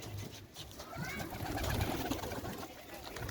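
A flock of giribaz pigeons in Shantipur, Nadia, gives soft, low cooing in a brief, fairly faint stretch, with some background noise around the calls.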